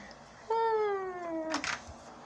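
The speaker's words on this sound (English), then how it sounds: "My cat screams when he smells things, when people are by my door." A cat lets out one loud, drawn-out yowling meow that holds steady and then tails off, followed by a brief rustle in a quiet room.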